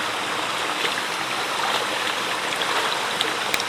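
Water runs in a continuous rushing stream, rinsing walnut hull dye out of stained material, with a few faint splashes and drips in the flow.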